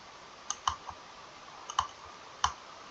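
A computer keyboard gives a handful of sharp, faint key clicks in small clusters during a Roblox tower obby game, with quiet background between presses and no talking.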